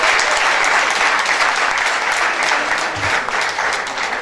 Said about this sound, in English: Can you give her another round of applause?